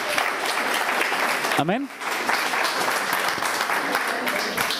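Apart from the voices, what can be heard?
congregation applause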